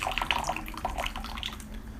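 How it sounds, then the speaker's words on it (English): Brewed Lugu oolong tea poured from a gaiwan, held a little high, gives a light trickling and dripping of liquid into a cup, close and soft, about two seconds with no talking. "I'm going to pour this a little bit high"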